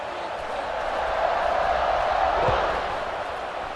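A dense, steady roar from a large football stadium crowd at Ohio State vs Michigan, swelling slightly, with a commentator's voice faintly under the noise.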